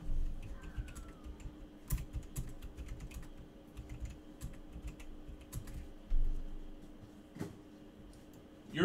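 Keys tapped on a computer keyboard in quick, uneven bursts of clicks, fairly close and moderately quiet, with a hum beneath and no talking, during a live card-break chat.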